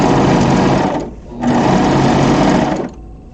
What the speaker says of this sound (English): place that back under the presser foot. There we go, and stitch down to the next corner.